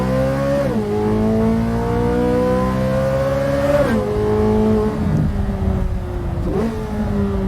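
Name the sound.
Corvette C8 Z06 engine revving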